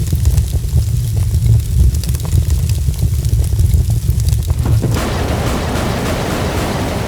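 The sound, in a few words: looping fire sound effect in Unreal Engine 4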